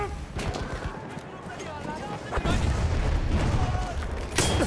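Shotgun blasts and surrounding gunfire in the video game Battlefield 1, several sharp booming shots with a player talking over the battle noise.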